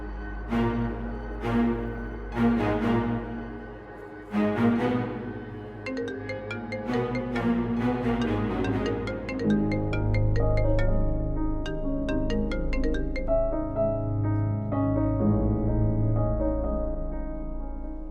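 A phone's melodic ringtone plays on and on without being answered in a drama scene, its repeating musical phrases loud and clear over a low steady hum, with no talk.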